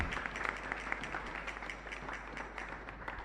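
A church congregation applauds at Mass in a chapel, a steady, moderately distant patter of many hands clapping that holds evenly throughout with no voices standing out.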